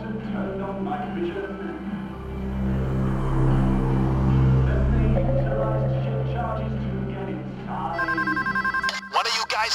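A telephone rings in rapid electronic bursts near the end of a heist scene inside a bank in Payday 2, following a stretch of talk layered over a droning music bed.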